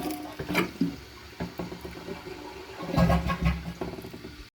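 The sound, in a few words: Kohler toilet flushing, handle held down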